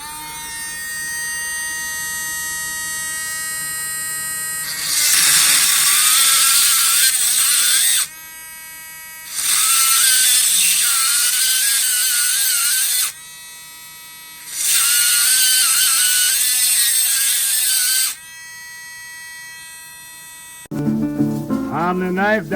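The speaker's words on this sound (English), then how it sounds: "I'm fixing to bevel the holes out." A diamond-plated bevel tool spins in the pinholes of a Case XX knife, making a steady high-pitched electric whine that rises into three loud grinding bursts with quieter running between them.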